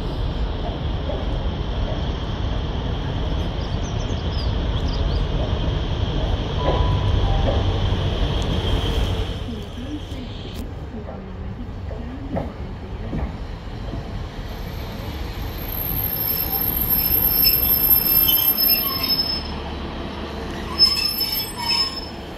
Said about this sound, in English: Approaching in now is Great Western Railways 43198 with 43093 Old Oak Common.